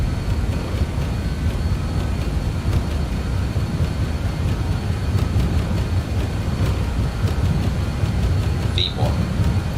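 BAe 146 jet engines spooling on the takeoff roll in Microsoft Flight Simulator 2020, a dense steady roar with rumble, continuous for the whole stretch and no voice on top.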